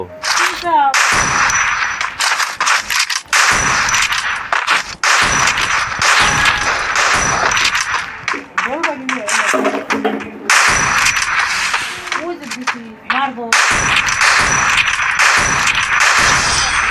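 Free Fire mobile game combat audio: sharp metallic headshot clangs and gunfire bursts repeat loudly in quick clusters, broken by short silent gaps.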